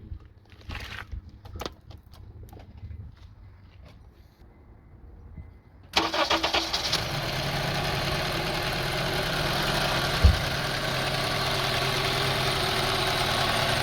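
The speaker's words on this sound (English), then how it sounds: "Now we'll wait until the engine starts doing like RPM get rough again" A Honda CR-V engine idles roughly after a quiet stretch, a broad mechanical hum with a faint uneven edge and one brief knock partway through.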